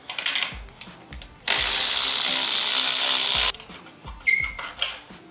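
A 15mm socket works loose a Harley-Davidson Road Glide exhaust clamp, with a steady two-second burst of mechanical whirring between short clicks and clanks. The sound is close, with no talking.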